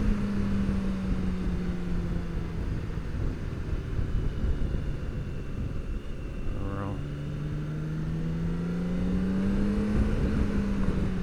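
A BMW K1600B motorcycle engine holds a steady, droning hum while riding, with continuous wind rush over the microphone and a brief higher tone midway.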